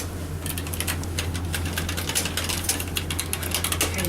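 Elevator doors at a medical building close with a mechanical rattle and clicking ticks over a steady low motor hum, close by and continuous.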